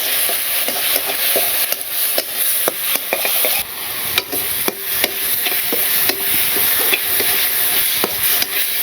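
A spatula clacks and scrapes in a pan as food is stir-fried with salt, turmeric and chili in a village kitchen, with irregular sharp knocks over a low steady sizzle and no talking.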